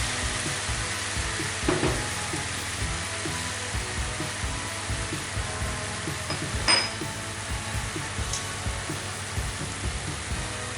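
Pork simmering with sake, mirin, soy sauce and sugar in a pan, a continuous even sizzle with a few light clinks, steady and close throughout.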